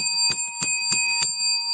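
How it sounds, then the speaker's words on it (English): A bright bell rings in four quick, evenly spaced dings, its high metallic tone sustaining steadily between strikes. "I have to ring the bell"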